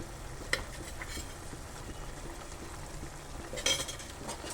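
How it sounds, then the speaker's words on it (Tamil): Spiced fish curry stirred in a pan after chili and curry powder go in, with soft scraping and a few sharp metal clinks over a low, steady cooking hiss. "நல்லா கிண்டி விட்டுக்கலாம்."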